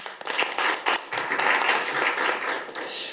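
A policy forum audience gives dense, steady applause to welcome National Assembly member Kang Hoon-sik, the clapping loud and continuous throughout with no voices over it.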